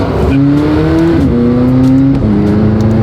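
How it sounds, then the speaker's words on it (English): McLaren 765LT launching from a stoplight with a burnout: loud, sustained engine roar with rising revs and a brief shift dip, close and continuous, no talk over it. "765LT just did a burnout to the stoplight"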